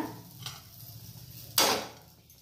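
A lid set down on a pan of stuffed brinjal, a single sharp metallic clatter near the end after a faint earlier tap, over a quiet low sizzle.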